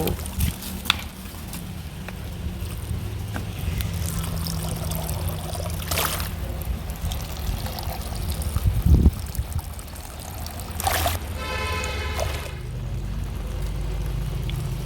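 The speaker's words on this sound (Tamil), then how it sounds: "தண்ணி ஓப்பன் பண்ணி விடுறேன்" Water from an opened tap trickles and pours onto okra plants in a home garden, a steady splashing flow throughout with brief louder spurts and faint voices in the background.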